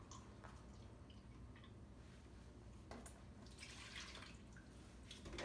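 Whole milk pours into a bowl for homemade ice cream, a soft, quiet liquid trickle with faint drips heard alone.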